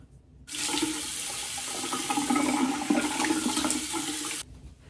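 Water runs steadily from a tap into a sink for about four seconds while a face is rinsed after a gentle low-irritation cleanser, a close, even rushing splash that starts and stops abruptly.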